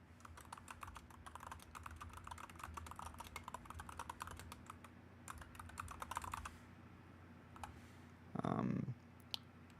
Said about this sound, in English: I can't really show the text that I'm typing in